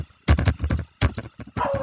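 Typing on a computer keyboard while entering Python code, with close, loud bursts of rapid key clicks separated by short pauses.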